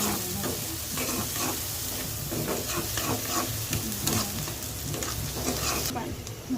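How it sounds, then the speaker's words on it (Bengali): Onion frying in a pan for a Bengali rui fish dopeyaja, with a steady sizzle and repeated stirring scrapes running throughout, loud and close, with no talk. "পেঁয়াজটা একটু ভাজা ভাজা হয়ে এসছে"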